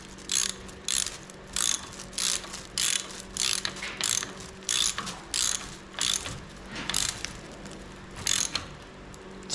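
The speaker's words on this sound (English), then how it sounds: "Go ahead and put our nut on. We'll go ahead and tighten her down." Hand ratchet clicking in quick bursts as a nut is tightened down on an Allis Chalmers D road grader, about a dozen crisp, close rhythmic runs of clicks over a low steady background hum.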